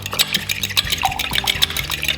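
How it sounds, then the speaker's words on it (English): Water splashes and trickles into a measuring cup in a home kitchen while a tourtière meat pie is being prepared, with dishes and utensils clinking close by throughout. "So now you're going to fill it up with water up to 1 cup"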